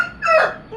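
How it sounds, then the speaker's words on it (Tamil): A chicken gives a single short, loud squawking call close by, rising and then falling away in under a second. "கோழி கத்துந்து"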